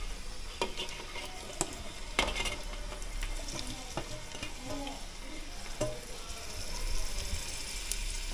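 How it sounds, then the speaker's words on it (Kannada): Biryani ingredients frying in plenty of oil until golden brown, a steady low sizzle with scattered stirring clinks and scrapes of a spoon against the pan, fairly quiet throughout. "ಫ್ರೈ ಮಾಡ್ತಾ ಇರ್ಬೇಕೀಗ. ಇದು ಫ್ರೈ ಮಾಡಬೇಕು."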